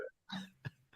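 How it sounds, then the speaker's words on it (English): A short, quiet throat clearing: a couple of rough, guttural bursts close to the mic, then silence. "I'm clearing my throat."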